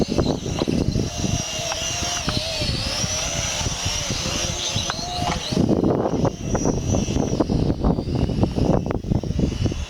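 A Drocon Traveler quadcopter drone flies outdoors on a windy day, its steady propeller whine holding close and loud while gusts of wind buffet the microphone throughout.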